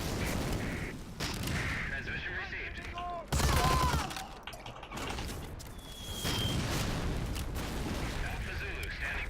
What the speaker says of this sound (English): with the binoculars, I'm calling in artillery fire on these tanks